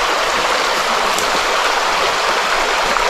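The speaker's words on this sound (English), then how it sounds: "And you have this beautiful little creek" A small creek flows beside a riverside backcountry campsite, giving a continuous, fairly loud rush of water. Nothing breaks the steady wash, and no one speaks.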